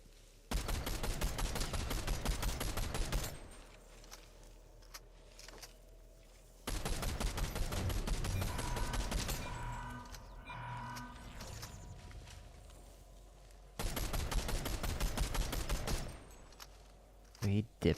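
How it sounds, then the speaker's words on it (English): Blind firing in Fortnite comes in three loud bursts of rapid gunshots with quieter game sounds and talk between the volleys. "he got the final shot. Just blind firing"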